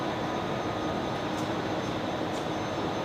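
Emirates airliner taxiing on a Brisbane Airport taxiway at night, a steady broadband engine rumble and roar that holds constant throughout, with no talk over it.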